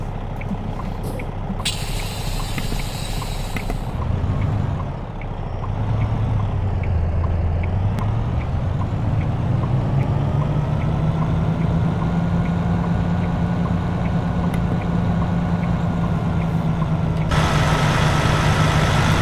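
A heavy truck engine in a truck-simulator cab, hauling an 89,000 lb dozer, idles low and steady, then revs up into a sustained droning pull with a rising tone, loud and close, with no talking.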